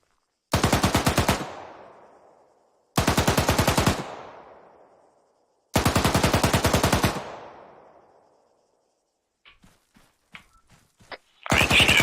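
Arma 3 gunfire arrives in three loud, close bursts of rapid automatic fire, each ending in a long echoing tail, followed by a few quieter scattered clicks and the start of another burst.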